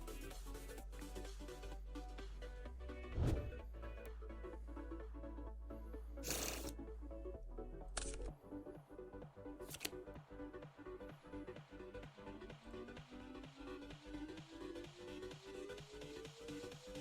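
Deck of trading cards shuffled by hand at a Speed Duel tournament, a dense run of rapid riffling flicks and snaps, close and steady, with faint background noise.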